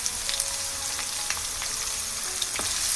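Onions and curry leaves sauté in a pan with a steady, close sizzle of frying, with faint stirring scrapes over it and no speech.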